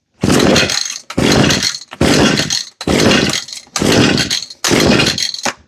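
Six hard pulls on the recoil starter of an Echo string trimmer that will not start, with the switch on run and the choke on. Each pull gives a loud, close rasping whir of roughly half a second, evenly spaced, and the engine never catches.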